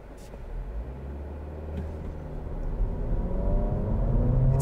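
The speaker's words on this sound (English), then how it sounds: "This time, we'll put it back into sport and we'll just floor it." A 2023 Acura Integra A-Spec in sport mode accelerating at full throttle, a low engine and road rumble building steadily in loudness from inside the cabin, with no voices.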